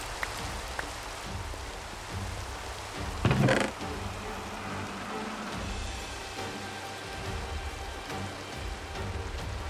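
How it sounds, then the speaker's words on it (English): Game rain in the Minecraft modpack SkyFactory 3 falls as a constant soft patter. A brief louder thump stands out partway through, and faint low rumbles run beneath the drops. "This rain's doing like wonders for my garden."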